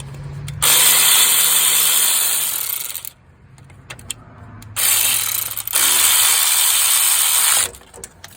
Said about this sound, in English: Now we're gonna tighten this top one.